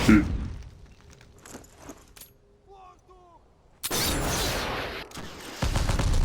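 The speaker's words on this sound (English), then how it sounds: "These buildings are like laced with explosions, apparently." Explosions in the shooter game Black tear through buildings rigged to blow in Naszran Town: after a quieter stretch of faint gunfire, a loud, sustained roaring blast erupts, then a second heavy burst follows close behind.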